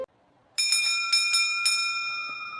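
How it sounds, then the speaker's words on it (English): A school bell rings at the end of the school day, a bright metallic ring struck in several quick repeated strokes that sustain and slowly fade, heard alone. "That bell means the school day is over"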